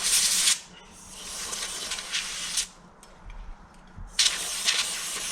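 Cleaner sprayed onto a carburetor from a 1986 Honda VF1000R, close-up hissing bursts: a long blast, a shorter one, scattered faint puffs, then another long spray, no talk.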